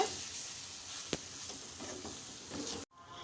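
Lentils and sliced snake gourd sizzle in hot oil over a low-to-medium flame, a continuous crackling fry broken by a sharp scrape of stirring near the middle, then cutting off abruptly near the end.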